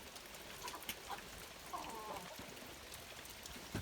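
Chickens cluck softly now and then over a quiet outdoor background with light rain patter, fairly faint and distant.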